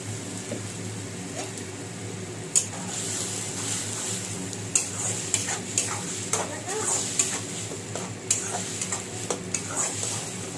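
Ridge gourd, onion and garlic paste fry in a pan with a continuous sizzle, while repeated spatula clicks and scrapes tap irregularly against the metal, close and clear.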